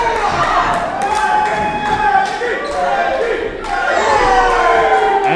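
A wrestling crowd at a live show cheering and shouting in a steady roar, with thuds from the ring and a commentator talking over it throughout.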